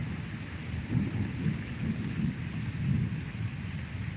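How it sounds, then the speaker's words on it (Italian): Thunderstorm over the sea on a stormy night, with steady heavy rain and deep rolling thunder rumbling at intervals throughout, fairly loud and close, with no voices. "Tuoni, lampi, un casino proprio."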